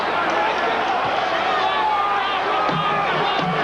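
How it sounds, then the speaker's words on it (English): Boxing crowd at a convention hall, standing and cheering at a 1991 heavyweight title bout: a dense, steady roar of many voices with scattered shouts, loud and continuous throughout. "The crowd is on their feet here at the convention hall."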